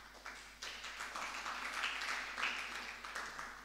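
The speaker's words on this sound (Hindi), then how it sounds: "क्यों ताली बजाई?" An audience at a Jain sermon breaks into a short, fairly faint burst of clapping, a dense patter of many hands lasting a few seconds in a large room.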